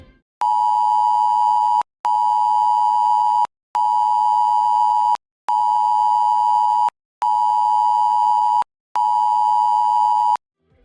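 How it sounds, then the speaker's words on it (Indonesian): Six long, steady ship emergency alarm blasts of one tone aboard a ferry, evenly spaced with short gaps between them, loud and clear with no voices. "Bila Anda mendengar bunyi alarm panjang 6 kali"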